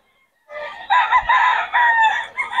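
A rooster crows once at a busy chicken market, a single clear, drawn-out call rising after a moment of quiet and holding for about two seconds, close and loud.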